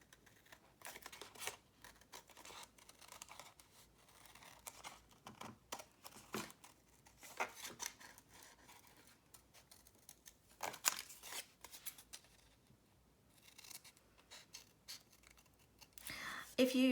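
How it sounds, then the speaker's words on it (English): Scissors snip through old book pages being cut into pieces for collaged birds, giving scattered crisp cuts and paper rustles at close range, with quiet gaps between them. "let's cut that out."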